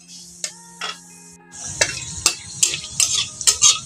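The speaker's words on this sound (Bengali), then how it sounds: "এখন আমি দিয়ে দিলাম সরষার তেল শুকনো লঙ্কা গোটা সাদা জিরে আর গোটা গরম মশলা" Dried red chillies, cumin and whole garam masala hit hot mustard oil in a pan for a Bengali fish curry, a few clinks and then a sudden close sizzling hiss with crackling bursts, no voices.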